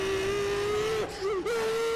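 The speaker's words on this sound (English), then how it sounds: "It has a speaker inside of it that makes it sound like an actual F1 car" A Roblox Plane Crazy build's onboard speaker plays a simulated F1 car engine: a steady, high-pitched drone that dips and wavers briefly near the middle, then resumes at the same pitch. No one speaks.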